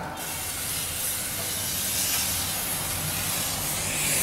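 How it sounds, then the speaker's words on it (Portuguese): Gas hissing steadily into a tire in a failed attempt to inflate it with fire, a broad continuous spray that holds at a fairly constant level for about four seconds with no talk. "Então a ideia é encher lá dentro de gás."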